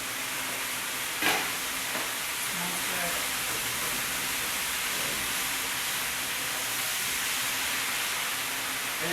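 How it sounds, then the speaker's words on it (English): A chickpea-flour battered frito misto fries in a deep fryer with a steady, loud, hissing sizzle and a brief clatter near the start. "Back into the fryer."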